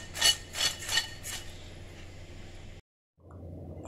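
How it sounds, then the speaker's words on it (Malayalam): Crispy fried finger chips rattle and scrape as they are tossed, a few quick rough bursts close up that fade into softer rustling before a brief silence. "ശബ്ദം കേൾക്കുന്നുണ്ടോ, നല്ല ക്രിസ്പി ആയിട്ടുണ്ട്"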